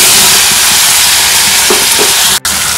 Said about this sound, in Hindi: और इसको अच्छे से हम भूनते रहेंगे जब तक इसमें से तेल से ये अलग नहीं हो जाता है मसाला